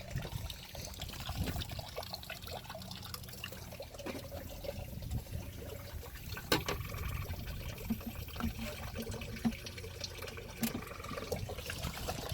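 Coolant and water flushing and draining from the radiator of a 2006 BMW X5 3.0i, a steady close rushing, trickling flow running continuously with occasional drips and splashes, no talking.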